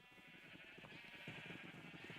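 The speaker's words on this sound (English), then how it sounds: "And here are my sheep." Sheep in Minecraft bleat in a quick wavering cry, faint and close, heard alone with no talking.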